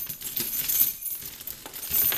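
American padlocks clink and jangle together on a carabiner as they are shuffled by hand, a close, continuous metallic rattling with no talking.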